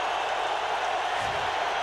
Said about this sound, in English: A little noise from the crowd.